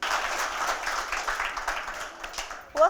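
An audience at the final of a Tharu cultural dance reality show claps loudly to welcome the municipality chief. The dense, continuous applause is close and fills the moment, then eases slightly before a short tonal sound at the end.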